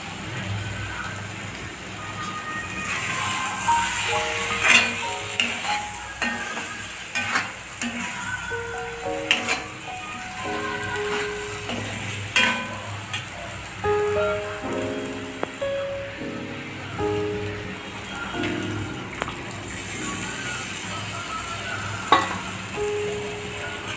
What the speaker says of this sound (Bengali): মাশরুমটাকেও ভালোভাবে মশলার সঙ্গে মিশিয়ে নেব।